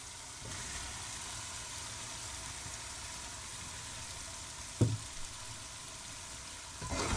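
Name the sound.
chicken being added and fried in spice masala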